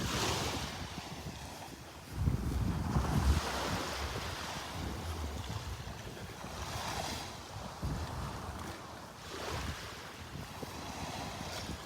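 Ocean waves roll in at Wiggins Pass beach in North Naples, Florida, as the tide comes in on a Saturday morning, with a steady washing surf, a few swelling breakers and wind buffeting the microphone.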